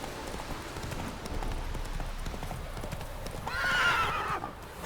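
Horse hooves clip-clop steadily on the ground in The Witcher 3 video game, then a loud, close neigh rings out near the end, with no talking.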